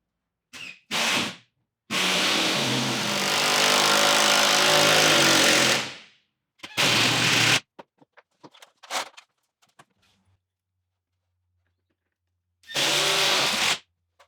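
A power tool driving screws through cabinet tin into plywood backed by packers on a new stud wall: loud, close whirring bursts, one long and several short, separated by silences and small clicks.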